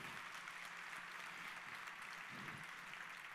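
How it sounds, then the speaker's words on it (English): Audience clapping for a robotics crew of kids dressed in yellow at a tech talk, a soft, fairly distant wash of applause that holds steady for a few seconds. "Let's give them a round of applause."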